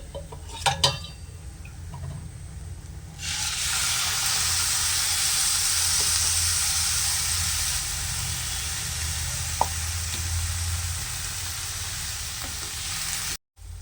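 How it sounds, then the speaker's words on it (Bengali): Beetroot for halwa cooking in a pan as a cup of milk is poured in: a short stir and a clink, then a loud, steady, close sizzle that holds for about ten seconds and cuts off abruptly. "বিটটাকে সামান্য সেদ্ধ করে নেব, তার জন্য এখানে 1 কাপ দুধ দিয়ে দিচ্ছি"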